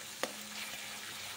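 Ginger garlic paste fries in a pan for chole bhaji, giving a soft, steady sizzle. A single sharp clink or tap of a utensil comes early on, and no one speaks.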